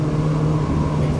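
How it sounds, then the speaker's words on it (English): A Ferrari 458 engine pulls hard after a downshift on a track, a loud, steady engine tone from inside the car holding a low hum through a short burst, with no talking. "Now accelerate down to the orange cones on the left"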